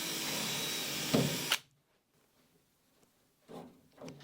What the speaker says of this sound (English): I'm just going to drill a pilot hole.